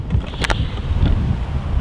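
Heavy wind on an uphill golf course buffets the microphone with loud low rumbling, broken by a brief sharp rattle or knock.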